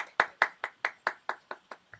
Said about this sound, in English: help me to welcome Chris with a round of applause